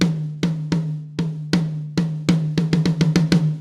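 High tom from the Tokyo Scoring Drum Kit struck repeatedly, each hit a resonant pitched thump with a short ring. Spaced strikes speed up into a quick run near the end.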